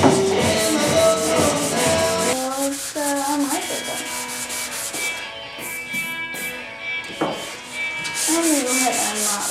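A wooden surface is sanded by hand to refine scratches, giving a continuous close rubbing and scraping with rhythmic strokes, partly under background music.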